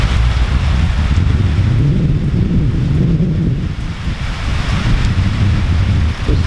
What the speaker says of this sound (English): Wow, it's really pouring now.